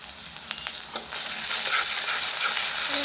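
Cumin and ginger paste frying in a pan for khichuri, a few light scrapes giving way to a sudden, dense sizzle that swells and stays loud and close to the end; nobody speaks.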